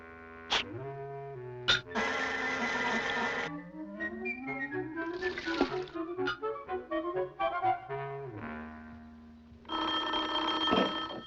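A cartoon telephone rings in bursts of bright, rattling bell tone from a 1954 animated short, alternating with whistly, sliding musical notes between the rings, up close and fairly loud.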